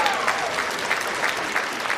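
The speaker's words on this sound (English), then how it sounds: "let's give Jay a round of applause" A crowd at a ring announcer's event gives Jay a round of applause, dense loud clapping sustained evenly for two seconds with a few sharper claps standing out.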